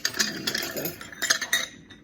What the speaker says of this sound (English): I'm tossing that fruit mix around in the lemon juice as we speak.